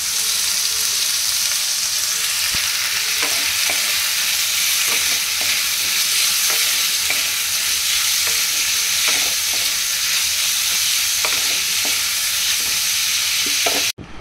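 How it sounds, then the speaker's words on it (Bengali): Chopped boiled meat frying in a pan with capsicum, green chilli and tomato: a steady loud sizzle with frequent scraping taps of a spatula stirring throughout, no talking. "ক্যাপসিকাম দিয়ে, কাঁচা লঙ্কা, টমেটো দিয়ে ভেজে"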